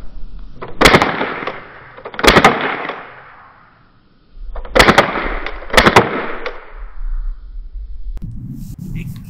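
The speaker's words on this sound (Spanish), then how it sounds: "vamos a dispararle a los targets." Jericho B CO2 air pistol shooting at targets on a range: four or five sharp cracks, close and loud, some in quick pairs, with gaps between them and a faint ring trailing after each shot.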